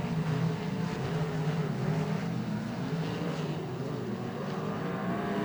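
Pack of modified race cars at Greenstone Park Speedway, a steady layered engine roar from several cars running together at a distance, fairly faint with no clear voices.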